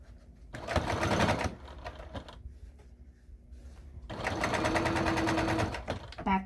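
A sewing machine runs in two close, steady bursts at a 3.0 stitch length, stitching fabric for a pair of slippers, with a quiet pause of handling between them.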